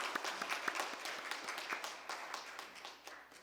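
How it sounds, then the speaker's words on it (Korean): A church congregation clapping at a New Year's Eve service, with distinct individual claps standing out in a moderately dense, fairly quiet round that tapers off toward the end. "크게 영광의 박수를 돌립니다."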